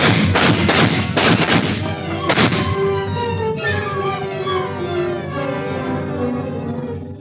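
Gunshot sound effect in an old radio suspense drama: a burst of several sharp, loud shots in the first couple of seconds, then a sustained tonal ring that fades slowly.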